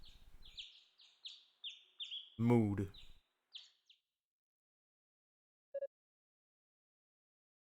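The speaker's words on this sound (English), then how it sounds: "And birds chirping." Chirping birds sound from the ambience of the video game Ys VI: a string of bright, repeated high chirps, then a single short chirp after a quiet gap. A brief low spoken word interrupts the birds once.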